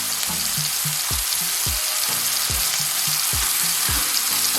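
Butter with garlic and fresh thyme sizzles loudly in a frying pan, a steady close hiss broken by repeated scraping and spooning strokes.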